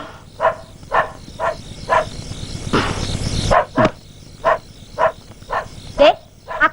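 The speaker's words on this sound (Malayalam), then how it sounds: "ആ കൈസർ ഇടുന്ന് കുരയ്ക്കുന്നുണ്ട്" Kaiser, a dog, barks repeatedly in sharp single woofs spaced about half a second apart, fairly close and loud, with a brief burst of rushing noise in the middle.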